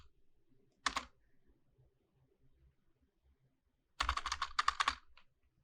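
Two separate bursts of typing on a computer keyboard while writing Laravel code, a short flurry of key clicks followed by a longer rapid run, close and crisp against near silence.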